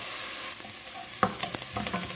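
Onion sautéing lightly in a pan for a saffron risotto, a continuous hissing sizzle broken by a few sharp clinks and scrapes from stirring, close and alone.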